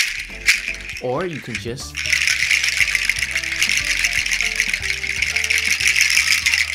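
A Togo seed rattle, hard seeds strung on a fiber rope, shaken softly gives a steady dry, dense rattling and clicking that runs throughout, with a brief spoken voice near the start.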